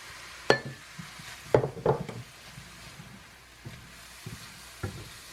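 Cold rice hitting a hot pan with butter and sesame oil, a soft sizzle beneath scattered knocks and scrapes of a utensil against the pan, close and fairly quiet.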